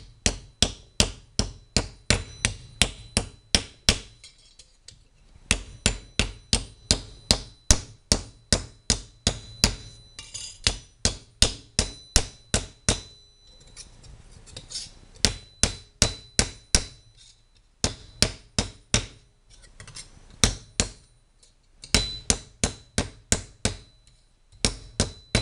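A rawhide mallet pounds a copper sheet flat on a hard surface, a long run of steady, evenly spaced sharp blows in close, loud bursts, with a few short pauses between series and no talking.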